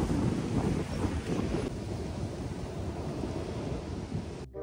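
Steady, loud wind gusting outdoors, roaring across the microphone with a rough rumbling texture, then cutting off abruptly at the end.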